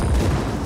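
A single heavy boom from a cluster bomb launcher in the video game Just Cause 4, short and loud with a deep rumbling body.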